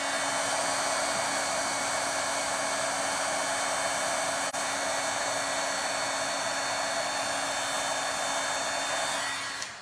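A heat tool runs steadily to heat and set embossing powder on a handmade New Year card, a loud, continuous blowing whir that holds for nearly ten seconds, then cuts off at the end.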